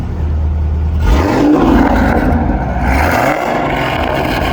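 Revving of a warmed-up 2013 Chevrolet Camaro ZL1 V8 fitted with a Corsa exhaust, a loud close roar swelling and falling through repeated throttle blips over a steady low idle.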